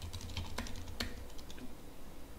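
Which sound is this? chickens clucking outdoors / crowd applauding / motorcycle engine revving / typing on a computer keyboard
typing on a computer keyboard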